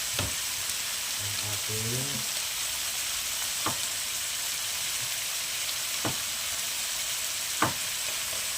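Shrimp frying in a pan, a steady hiss of sizzling oil throughout with a few sharp clicks of stirring and a brief voice in the background.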